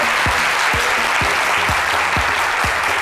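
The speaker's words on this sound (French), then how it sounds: "Merci de l'applaudir encore trop fort." A television studio audience gives a guest dressed in white a strong round of applause, dense, loud clapping throughout, with faint repeated low swoops beneath it.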